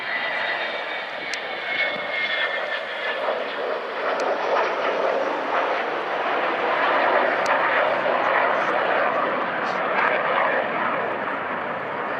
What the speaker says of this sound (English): Another great roar from those mighty Olympus engines.